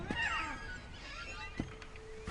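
A cat meows in the video game What Remains of Edith Finch, giving a couple of short, mid-level cries over soft ambient game sound.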